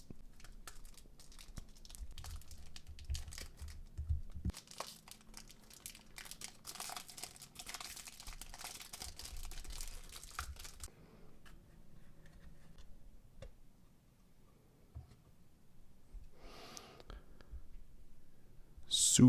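Packaging of a boxed Honda Integra DC5 Type R scale model car being opened, with soft crinkling, tearing and clicking of plastic and cardboard close by, fading to quiet near the end.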